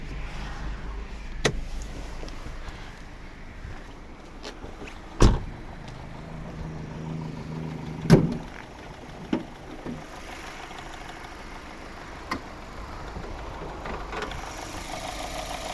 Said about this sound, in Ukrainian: Підемо послухаємо, як працює наш двигун.